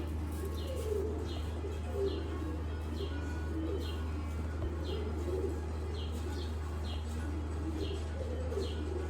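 Neel dumba pigeons of the Sialkoti type cooing steadily, with repeated soft coos and chirps over a constant low hum, with no one talking.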